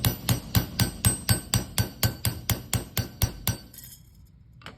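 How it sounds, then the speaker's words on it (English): A hammer strikes nonferrous metal to texture it, about fifteen sharp, ringing taps in a quick, even rhythm, close and clear, before the tapping stops and the clip falls quiet. "you would always want to lay down the foundation of a hammer mark first"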